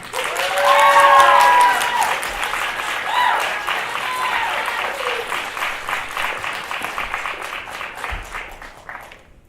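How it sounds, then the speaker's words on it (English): Audience at a university forensics performance applauds in a dense, steady wash of clapping with cheering voices on top at first, then settles into sustained clapping that tapers toward the end. "Y'all give a round of applause to my girl, Emma."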